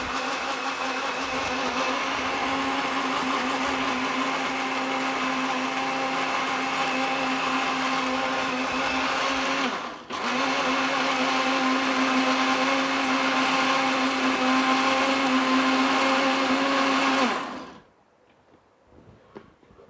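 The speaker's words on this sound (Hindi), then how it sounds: "तकरीबन 4 से 5 चम्मच आपने इसमें चीनी डालना है और इसको ब्लेंड कर लेना है।" A blender runs steadily, blending falsa berry juice with sugar, a loud continuous whir with a brief dip near the middle before it stops abruptly near the end, no talking.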